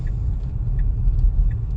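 A Tesla with two-wheel drive on Full Self-Driving rolls through a couple inches of drifted snow during a heavy snowstorm, giving a steady low road rumble with faint rhythmic ticks and no talking.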